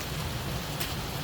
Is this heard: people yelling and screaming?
no